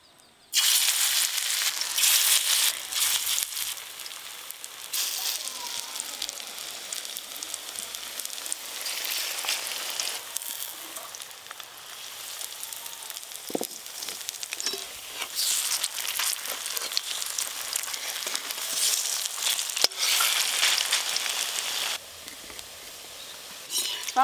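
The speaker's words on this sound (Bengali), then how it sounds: "আমি কটা ভেজে ফেলি।" Village-style frying of banana flower fritters with poppy seeds in hot oil: a loud, sustained hiss and crackle that swells and eases across the batch, with no voices.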